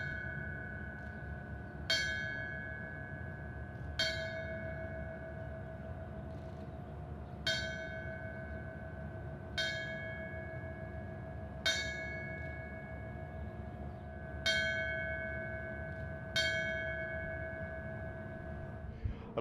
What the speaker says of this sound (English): the bell rings in honor of and in tribute to their lives